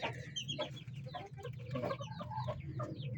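A sick chicken with ngorok, a respiratory disease that has left it with a poor appetite, gives continuous soft clucking and raspy fowl calls in a barn pen. The calls are fairly quiet and heard without speech.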